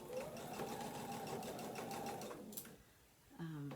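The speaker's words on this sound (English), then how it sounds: "I do a stitching line, and then I do a second stitching line right next to it to reinforce it." A sewing machine runs in a fast, steady buzz while double stitching a tote bag, then stops. A voice starts talking just after it goes quiet.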